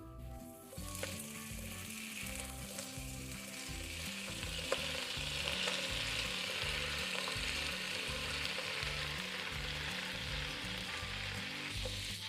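Spinach hits hot oil flavoured with golden garlic and sizzles loudly and steadily, with occasional stirring and a constant frying hiss that runs the whole way through.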